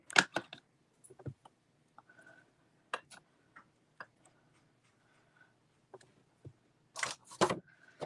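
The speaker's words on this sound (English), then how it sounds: "You might hear some typing." Sparse, quiet clicks and taps in scattered bursts on a computer keyboard, with a louder cluster of clatter near the end, like keys being struck at a distance.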